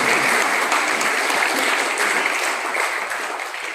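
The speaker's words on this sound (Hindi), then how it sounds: "जोरदार ताली हो जाए।" Loud, dense applause from an audience at an employee's 55th birthday celebration for a boss at a milk products unit, sustained clapping that tapers slightly toward the end with no talk over it.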